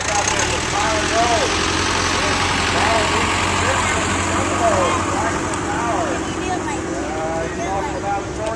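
Restored David Brown tractor idles steadily at an outdoor parade of power, a low continuous engine rumble under crowd noise and voices talking nearby.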